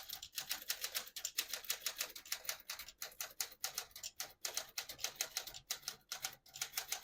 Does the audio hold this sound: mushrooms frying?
no